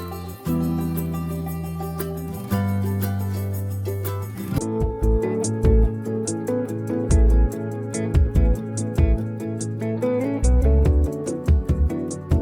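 Music from the Paralives life-simulation game, opening with sustained low tones before a brighter melodic section enters with plucked notes, light percussion and a steady pulse, loud and unaccompanied by talk.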